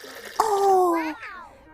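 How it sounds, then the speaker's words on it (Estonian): A cartoon water tap switched on inside a camper van, a bright rising tone with a sloshing gush of water that fades after about a second, followed by softer bubbly tones. "See nupp paneb tööle kraani."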